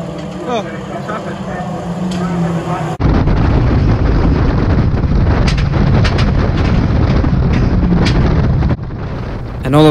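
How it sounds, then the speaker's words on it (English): A loud, dense engine roar filled with rapid popping and banging bursts, continuous for several seconds, with faint talk underneath at the start. "the car started banging"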